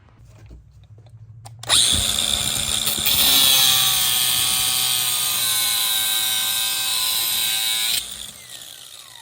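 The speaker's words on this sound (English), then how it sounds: "So now you're gonna cut the top of this bolt off." A power tool cuts off the top of a rusted valve cover bolt on a Ford 5.4 2V Triton engine, starting abruptly with a loud, steady high whine for about six seconds before stopping, with no talk.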